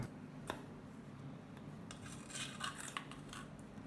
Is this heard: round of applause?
no